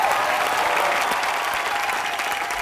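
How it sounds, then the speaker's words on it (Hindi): Steady, loud applause from a studio audience at a Hindi television comedy show, a continuous dense clapping with no pauses. "जोरदार तालियां हो जाए"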